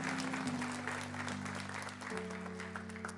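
A church congregation claps steadily and evenly for a few seconds, a dense patter of many hands, with a sustained musical tone humming underneath.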